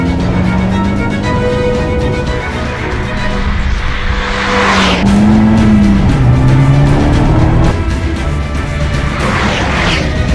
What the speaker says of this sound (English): It sounds a lot better than the MX-5.